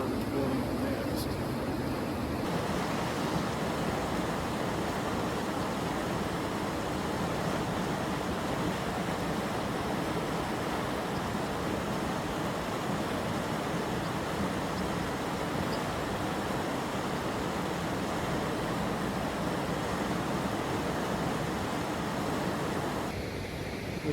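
Steady, dense roar of water pouring over a waterfall, continuous and loud from start to finish with no breaks, heard up close as a broad rushing wash that fills the whole scene.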